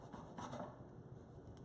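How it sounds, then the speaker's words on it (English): Garlic is grated over a measuring cup of teriyaki seasoning, producing a soft, continuous scraping rasp, quiet and close. "I'm going to grate it right over our seasoning here, right over our measuring cup"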